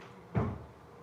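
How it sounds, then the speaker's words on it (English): A door shutting once in a quiet room, a single soft, muffled thud with no voices. "shut the door on him"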